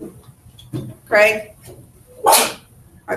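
A sharp sneeze bursts out amid brief spoken words in a room, followed by a second sudden burst.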